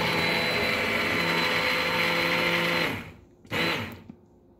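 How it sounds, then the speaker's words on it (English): An immersion blender whirs steadily through tomato soup for about three seconds, loud and close, then cuts off, followed by one short final burst. "you can use your immersion blender and just make it smoother."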